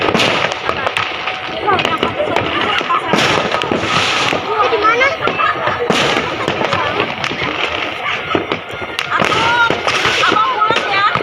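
Strings of firecrackers pop and crackle continuously and loudly on New Year's Eve, with voices talking over the rapid bursts.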